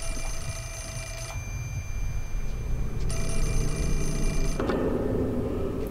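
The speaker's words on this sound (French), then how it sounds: "je vais répondre au téléphone" Telephone ringing inside the horror video game Project Zero 4, electronic bell bursts in repeated rings over a low droning game ambience, fairly loud and close.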